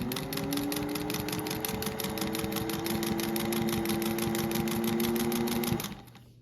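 1950s Singer 201 sewing machine stitching denim at a long stitch length, a steady, rapid mechanical whir with regular needle clatter for about six seconds before it stops abruptly.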